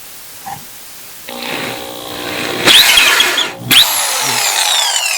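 A power drill with a centre drill whirs up and bores into wood, its motor rising in pitch with bursts of cutting and squealing, loud and close.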